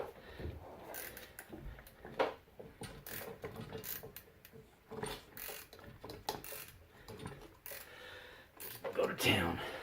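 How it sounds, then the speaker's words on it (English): A ratcheting wrench clicks while tightening the top strut nut on a 2006 Ford Explorer rear strut, giving quick, fairly faint bursts of ratchet clicks and clanks under occasional talk. "these ratcheting wrenches, they're a blessing. I'm gonna get 17 on, I'm gonna get that 8 on."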